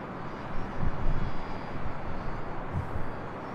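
An airliner departing for Tokyo Haneda from Southern California gives a faint, distant low engine rumble, with a couple of slightly louder swells over a few seconds.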